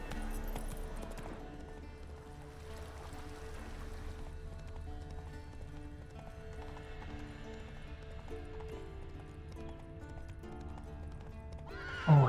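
Roach, Geralt's horse in The Witcher 3 game, galloping with fast rhythmic hoofbeats and whinnies beneath a layer of in-game music, then a sudden louder sound at the close.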